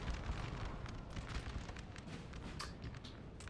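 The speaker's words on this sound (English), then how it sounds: "Artillery missing them, actually." Distant artillery explosions in a Napoleon: Total War battle, low muffled booms rumbling under a faint, constant battlefield din with occasional sharper bursts, quiet throughout.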